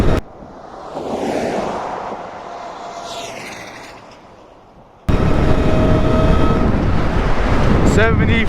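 Heavy wind buffeting roars over the microphone while riding an electric bobber motorcycle at speed, dipping briefly before a loud, constant rush of wind takes over, with a faint whine from the electric drive underneath.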